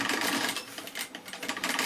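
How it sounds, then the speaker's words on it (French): A sewing machine stitches around the fabric of a fish-shaped backpack, a close, steady whirring needle run with slight dips in speed. "Et là donc je peux faire tout le tour, je couds tout de ce côté."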